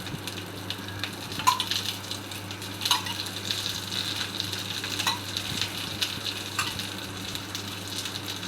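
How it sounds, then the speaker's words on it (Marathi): Fish shallow frying in oil, a continuous close sizzle and crackle with occasional louder pops and soft scraping, no voices over it. "मासे कधी शॅलो फ्राय करायचे."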